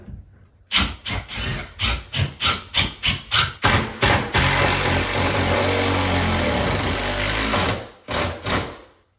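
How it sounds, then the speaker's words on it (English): A Makita screw gun driving screws into wall board, giving a rapid series of about ten short motor bursts followed by a long continuous whine of roughly four seconds, then two more brief bursts, loud and close with no speech. "And I got our Makita screw gun here."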